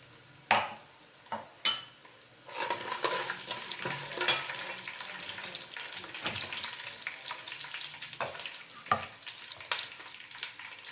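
Crushed garlic dropped into hot oil for tomato chitranna, sizzling steadily close up while a spoon knocks and scrapes against the pan in sharp, irregular clatters.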